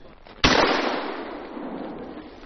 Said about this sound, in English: I decided to shoot some clays